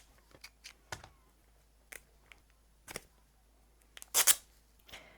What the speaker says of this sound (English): I'm just going to snip this a little so that I have torn edges